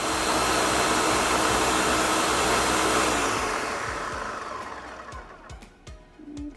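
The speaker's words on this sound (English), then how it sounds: "we're gonna go put it in our blender" A kitchen blender whirs loudly and steadily while blending red pepper flakes with a cup of water, then spins down over a few seconds, with faint knocks and clatter at the end.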